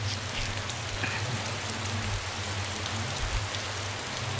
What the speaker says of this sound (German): Es regnet sogar in das Haus rein.